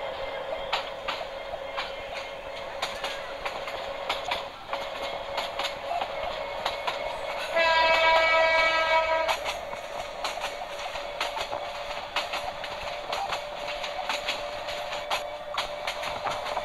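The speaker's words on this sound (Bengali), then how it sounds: "ট্রেনটি এখন চলছে আমাদের।" Subarna Express train running in Train Simulator Bangladesh: steady rhythmic clicking of wheels over rail joints under a constant engine drone, with a brief horn blast partway through.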